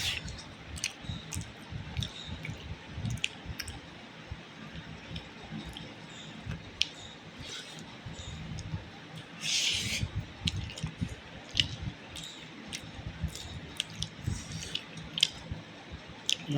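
Someone chews a home lunch of mixed vegetable and non-vegetable food with chilli, making close, soft, wet squishing and smacking sounds with occasional clicks, irregular and steady, with no talking.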